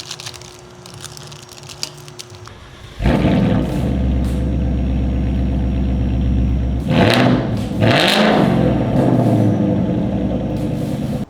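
Close by, a Ford Mustang GT with a valved Corsa exhaust barks into life after a quiet stretch, then idles with a deep rumble broken by two sharp revs.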